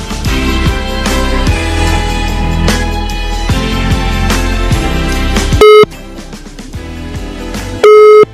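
A telephone call tone sounds in loud, steady beeps with gaps between them, following a stretch of music.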